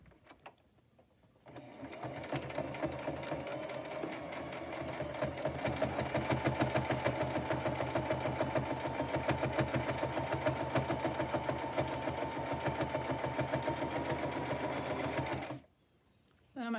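A sewing machine running zigzag stitch over fabric, a steady rapid mechanical whir with a fine repetitive needle rhythm that holds for about fourteen seconds before stopping.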